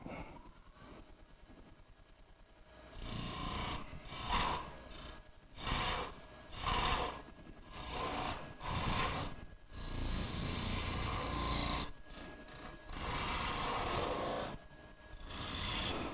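Sandpaper held against spinning wooden toothpick holders on a lathe, giving repeated loud raspy rubbing bursts of one to two seconds each over the motor's hum, close by with no talking.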